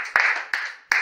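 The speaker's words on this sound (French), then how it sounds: "Applaudissons Janie." Three sharp claps or short applause bursts at a baptism, each with a quick attack and a brief decay, close and fairly loud.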